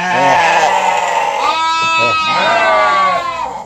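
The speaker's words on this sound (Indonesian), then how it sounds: "Kambing yang buat kurban." A goat kept for the Eid al-Adha qurban sacrifice at a livestock breeder's farm bleats loudly and close, giving two long, wavering cries one after the other.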